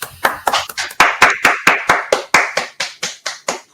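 A small audience at a thesis defense breaks into rhythmic applause, steady claps repeating at a brisk even pace, close and clear, with no speech over it.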